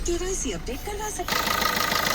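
A voice talks briefly, then the engine of a 2018 Maruti Ciaz idles up close, a steady rumbling hum that continues to the end.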